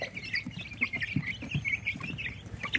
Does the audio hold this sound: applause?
no